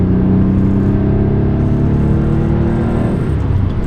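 A Porsche 964 Carrera 2 air-cooled flat-six pulls hard in third gear, a loud, steady engine drone heard from inside the car with a rising harmonic whine, easing slightly near the end, with no talk.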